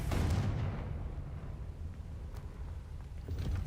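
A Confringo fire spell blasts against a gate in Hogwarts Legacy, a loud booming explosion with a deep rumble that swells at the start, sustains through the clip and surges again at the end.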